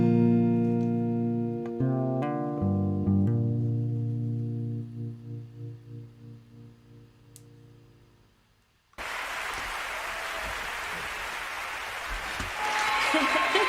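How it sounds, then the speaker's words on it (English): Sustained sung notes fade out at a live concert, then a burst of audience clapping and cheering fills the room, steady and dense to the end. "I think this needs lots of applause."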